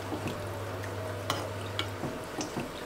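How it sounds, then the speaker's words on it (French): Sauce thickening on the stove is stirred with a few soft scrapes and light clinks of a utensil against the pot. The sounds are quiet and close, with a faint low hum under them. "on va épaissir ça sur le feu. Voilà. On va mélanger."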